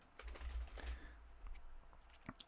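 Computer keyboard typing while working in a Visual Studio Code editor: quick, irregular key clicks in short bursts, fairly faint and close, over a low steady hum, with no talking.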